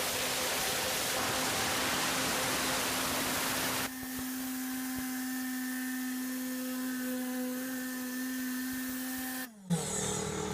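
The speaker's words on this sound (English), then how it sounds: "that's my air compressor in the background, re-compressing the air." A steady mechanical drone from an air compressor with a constant hum and hiss, running continuously, then briefly dipping and cutting off near the end.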